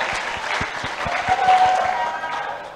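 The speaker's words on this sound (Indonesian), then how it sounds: "Wah, kita tepuk tangan dong buat Marcel." Students applaud at a Ramadan pesantren event at a Jakarta vocational high school, a full room of clapping hands that swells steadily and then fades, with voices underneath.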